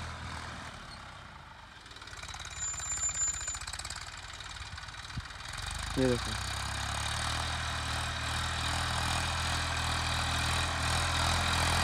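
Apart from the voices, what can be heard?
tractor engine while ploughing a field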